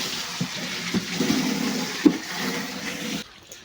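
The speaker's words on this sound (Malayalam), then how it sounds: "നമുക്കെന്നാ ഈ പൈപ്പ് കൊണ്ടേ നമുക്ക് അതൊന്ന് വെള്ളം അടിക്കാം." Water rushes through a pipe into a household tank, a steady close gushing flow with a few soft knocks, fading out at the end.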